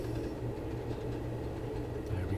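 Class 37/5 diesel locomotive in Train Sim World 2 easing off throttle and braking on the Tees Valley Line, a steady low engine drone with rail rumble and faint clicking, continuous and close, no voices.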